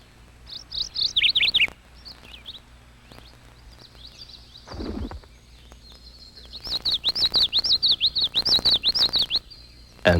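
Warbler and yellowthroat songs at a marsh, lake or river: bright, rapid chirping phrases that start in bursts, pause, then return as a loud run of repeated notes. A brief low sound intrudes midway.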